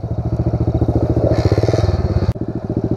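A Pro Tork TR100F mini dirt bike engine revs close by on a trail, its fast, steady putter rising briefly in pitch before settling back to a rough idle.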